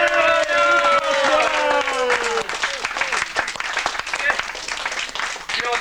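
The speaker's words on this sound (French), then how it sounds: "Tu as entendu les applaudissements frénétiques?" Frantic applause from a crowd, loud and dense at first, then thinning into scattered claps, with a voice talking over the start.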